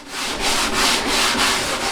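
Close, steady hand sanding: 240-grit paper scrapes across a kayak hull in a regular back-and-forth rhythm, several strokes in a row.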